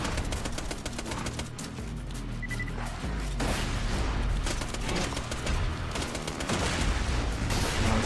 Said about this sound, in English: Shooting at a corpse.